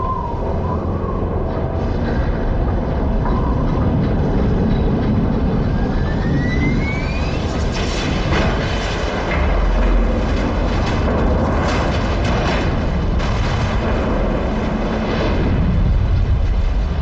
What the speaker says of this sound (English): This machine is so powerful that it was able to completely destroy the building.